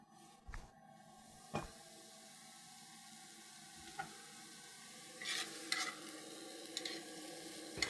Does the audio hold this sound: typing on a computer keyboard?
no